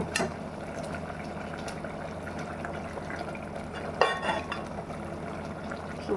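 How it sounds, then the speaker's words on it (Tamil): Vegetables simmer in water with sambar powder in a pan, a faint, steady bubbling and gurgling with occasional louder pops and no talk. "பாருங்க, நல்லா வெந்துக்கிட்டு இருக்குது."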